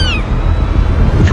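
A cat meowing inside the Roblox game Brookhaven, one short rising and falling meow at the start, over a steady low background rumble.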